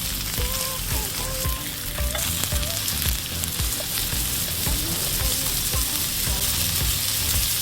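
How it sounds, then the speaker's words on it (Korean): Pork and garlic sizzle steadily on a hot grill plate at a Korean barbecue restaurant, a dense continuous frying hiss with occasional crackles and soft clinks of utensils, close and loud throughout with no talking. "불판 위쪽에 마늘도 올렸습니다."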